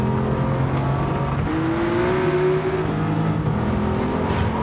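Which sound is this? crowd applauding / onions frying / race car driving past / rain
race car driving past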